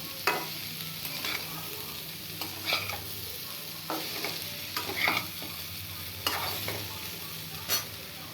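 Potatoes and coffee coated with sugar get stirred in a frying pan, a spatula scraping in short repeated strokes over a soft, steady sizzle, with no voices.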